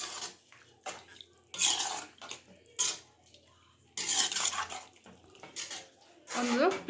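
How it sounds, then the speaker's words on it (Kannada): Water poured into chicken liver gravy cooking in a pan over a medium flame, heard as several short splashing bursts with pan clatter between them, fairly quiet and close. "ಈಗ ಒಂದು ಸ್ವಲ್ಪ ನೀರು ಹಾಕಿಬಿಡೋಣ"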